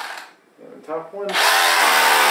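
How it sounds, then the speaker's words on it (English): A power drill drilling into a wooden board whines at high speed, starting after a short pause and running steadily to the end, loud and close, with a brief voice beforehand. "if I leave the board up and I do the drilling, it doesn't kick up as much dust"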